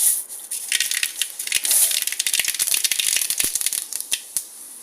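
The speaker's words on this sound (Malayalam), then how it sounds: "എണ്ണ ചൂടായിട്ടിട്ട് നമുക്ക് കടുക് ഇട്ട് കൊടുക്കാം." Mustard seeds are dropped into hot oil for a Kerala bitter gourd theeyal and splutter loudly, a dense crackling and popping of sharp close snaps that gradually thin out.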